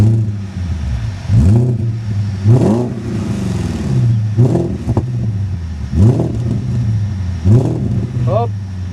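BMW E38 740i V8 engine revving in repeated bursts, each rising and falling back to a steady idle, loud and close, with a voice heard briefly between revs.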